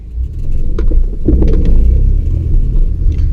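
Honda Jazz GD hatchback with a manual gearbox pulling away to start a drive, its engine a loud, steady low rumble inside the cabin with a slight rise as it gets moving.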